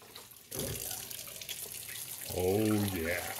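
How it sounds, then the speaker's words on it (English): Cold tap water runs and splashes as diluted Floetrol paint is rinsed into a container, a steady close gush that swells louder near the end, with a brief voice over the flow. "This time we're going to be washing it off with cold water, doing it into the container."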